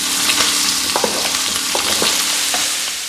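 Fresh valley champignon mushrooms frying in homemade clarified butter in a pan, a steady loud sizzle with scattered pops and crackles and faint stirring, no voices.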